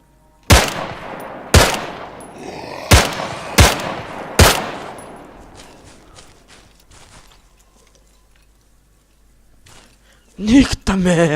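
Weapon fire in the military shooter game ArmA 3: five loud, sharp single shots spaced about a second apart, each ringing out in a long decaying echo, then a stretch of near quiet before a burst of other noise.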